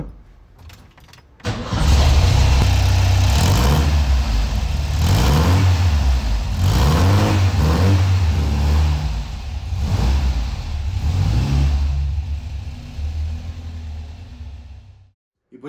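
A Volkswagen Beetle engine fitted with a new exhaust starts and revs loudly up close in repeated surging bursts, settling between throttle blips before cutting off near the end.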